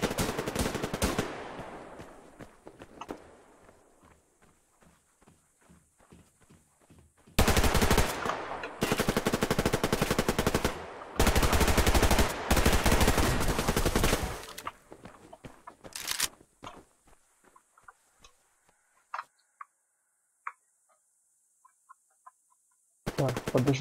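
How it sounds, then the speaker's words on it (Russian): Gunfire in the shooter game Survarium comes from all sides: sparse single shots and crackling rounds, then long, loud bursts of automatic fire, followed by scattered distant shots and quiet stretches. "Стрельба, стрельба со всех сторон."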